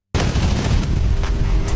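Gunfire from a dramatic film scene, dense booming bursts and sharp cracks rolling continuously through the stretch over a heavy low rumble, loud and close, with no talk.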